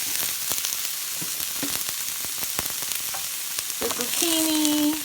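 Onion, garlic and peppers sizzle and crackle steadily in a hot pan for a butternut squash hash, with scattered clicks and scrapes of stirring throughout and a brief higher tonal squeak near the end, close and moderately loud with no talking.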